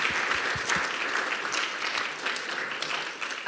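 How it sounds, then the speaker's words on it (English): An audience at a university final presentations event gives the student teams a round of applause, steady dense clapping at even loudness with a few thumps early on. "I just want to give all of these teams another round of applause"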